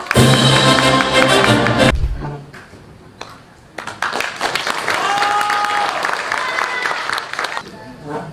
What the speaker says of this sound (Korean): 부안군 소상공인의 날 기념식을 힘찬 박수로 시작하겠습니다